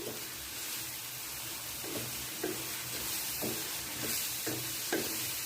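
Tomatoes being stirred into a sizzling masala in a pan in a desi kitchen, with a steady frying hiss and repeated scraping strokes of the spoon at a regular rhythm, close and moderately loud.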